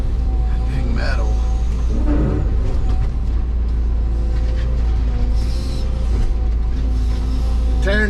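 A Caterpillar 316 excavator tears down a mobile home trailer, its loud, steady diesel rumble carrying occasional creaks and metallic scrapes while someone talks over it.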